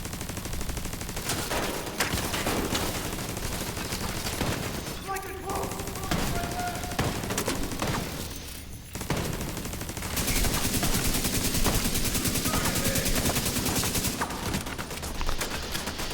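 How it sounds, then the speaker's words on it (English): Gunfire in The Division 2, a dense spread of shots and automatic bursts with a shotgun among them, loud and sustained across the whole stretch with a brief lull midway. "I hear a shotgun, but I don't see the person shooting the shotgun"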